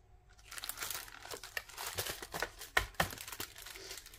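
Small handmade paper envelopes are handled close up, giving busy crinkling and rustling with sharp paper crackles and little taps over a few seconds.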